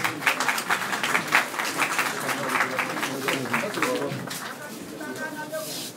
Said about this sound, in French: quelques applaudissements, s'il vous plaît